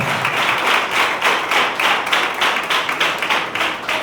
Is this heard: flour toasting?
no